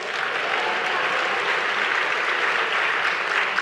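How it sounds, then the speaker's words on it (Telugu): Steady, dense clapping from a church congregation during a Telugu sermon on fear, loud and continuous, with no voice over it. "చప్పట్లు కొడితే కూడా సాతానుడు భయపడిపోతాడు"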